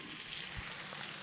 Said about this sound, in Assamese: এয়া মই মাংস ভাজি আছোঁ এয়া দেখিছেনে মাংস ভাজি আছোঁ